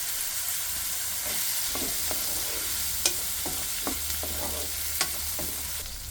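Eggplant pieces for Karnataka-style vangi bath frying in a pan with spices and mint, a constant close sizzle punctuated by several sharp stirring scrapes and knocks, no voices.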